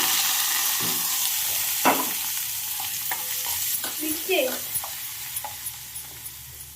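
Maggi noodles stirred in a hot pan, with a continuous sizzling hiss and intermittent scraping strokes of the spoon, close and steady throughout.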